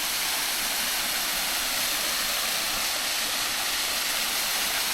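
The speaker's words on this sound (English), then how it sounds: "Nice little waterfall." A small waterfall along a hiking trail near Wat Phat Lat in Chiang Mai, Thailand, gives off a steady, even rush of falling water, heard close and continuous with no break.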